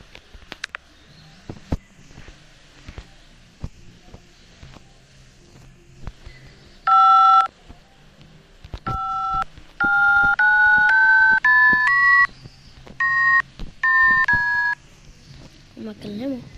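A phone keypad is dialed, with a string of clear electronic DTMF tones, some single and some in quick runs, punctuated by soft tapping and handling clicks in an otherwise quiet room.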